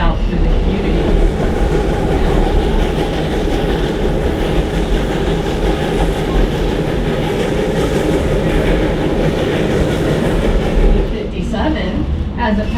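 A narrow gauge steam-era train from 1880 on the Black Hills Central Railroad rumbles continuously on three-foot track, heard from aboard as a loud, steady roar with rail clatter throughout.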